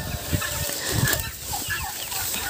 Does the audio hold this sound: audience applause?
no